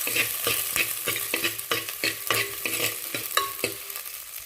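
Small onions stirred and sautéed in a clay pot for fish curry, with a steady sizzle under repeated scraping strokes of a spoon against the pot, close and fairly loud throughout.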